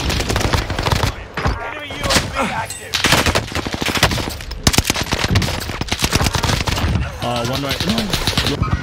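Loud automatic gunfire in a shooter video game, rapid rattling bursts and single cracks running throughout, with a player's voice calling out briefly over the shooting.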